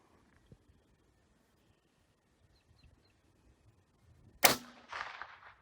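A single sharp gunshot cracks out outdoors at small critters, loud and close after a long quiet stretch with faint ticks, followed by a short scattered impact or ricochet tail.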